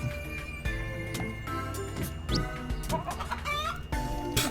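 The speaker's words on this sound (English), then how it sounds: "That chicken sound." Cartoonish chicken clucking from the video game Tasty Planet Forever, a run of short repeated clucks over bouncy game music and jingles, fairly close and clear, with no talk.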